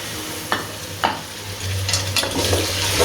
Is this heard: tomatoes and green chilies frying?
yes